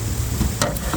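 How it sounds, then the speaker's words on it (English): Meat searing in a hot pan for a French dip sandwich, a steady close sizzle with a brief stirring or shifting sound partway through, no voices. "put it down lower to give it a nice sear, to build a nice crust on it. Look at that sizzle."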